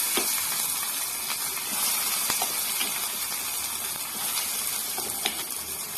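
Chutney tipped into a hot pan of fried tempering spices for a dosa meal, giving a steady, loud sizzling hiss that holds evenly throughout, with a few small pops and crackles breaking through.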